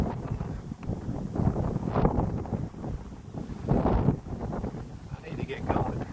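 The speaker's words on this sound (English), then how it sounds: "The wind's picking up." Gusting wind on a foggy Appalachian Trail hike, a rough, blustery roar that swells and fades in waves and buffets the microphone, with someone speaking over part of it.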